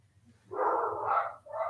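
Dogs barking nearby: a long, loud rough bark, then a shorter second bark after a brief gap, over a low steady hum.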